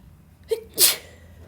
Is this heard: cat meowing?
no